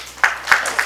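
Audience clapping at a public gathering, three scattered claps within a second, fairly close and with no talk over them.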